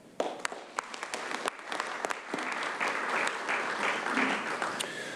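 A room full of people applauding volunteer coordinators at an annual recognition ceremony, a steady wash of clapping that rises after a few sharp early claps and holds to the end, with no talking over it.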